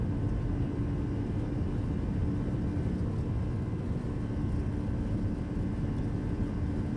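Boeing 757 engines in the X-Plane 12 flight simulator roar steadily at takeoff thrust during the takeoff roll, a dense, constant low rumble with no breaks.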